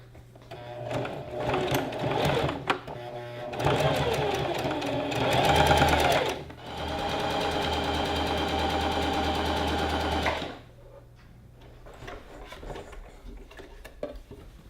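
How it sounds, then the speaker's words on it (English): Sewing machine stitching fabric panels for a gathered skirt with pockets, running in several close, loud whirring bursts, the longest lasting about four seconds, separated by pauses with faint handling noises. "Now we're just going to use a zigzag stitch all the way around the edge just to finish it off"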